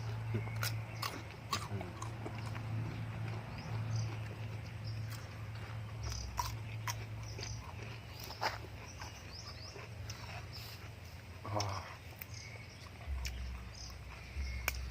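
Close, crunchy chewing of raw vegetables with leftover soil grit, eaten with northern Thai pork larb and sticky rice; faint irregular bites over a low steady hum, with no talking.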